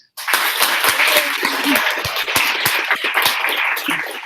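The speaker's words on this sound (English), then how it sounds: "if you give a round of applause, that would be amazing" Applause rises abruptly from silence at a civic hack night and holds steady, a room of people clapping loudly and evenly, with scattered laughter and sharp individual claps standing out.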